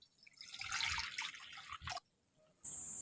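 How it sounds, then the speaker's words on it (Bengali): Water poured into a karai set on a lit stove, ready for boiling banana flower: a close, splashy pour lasting about a second and a half, then near silence and a brief bright tone at the end. "কড়ার মধ্যে জলটা দিয়ে দিচ্ছি"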